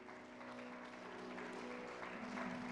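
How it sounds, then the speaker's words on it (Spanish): Faint, steady applause from a church congregation, distant and low in level, with a sustained tonal hum underneath. "Fuerte aplauso."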